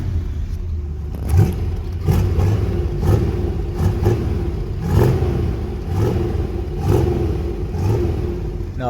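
A classic V8 car engine, a 1964 Corvette or a 1968 Pontiac GTO, revs roughly after a cold start, swelling and sagging about once a second. The low, loud rumble runs steadily throughout, close by, with no talking.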